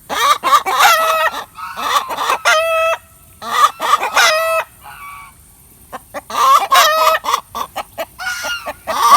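Agitated hens, naked necks among them, shut out of their shelter in the rain, cluck loudly and squawk in rapid overlapping bursts with brief pauses, close by.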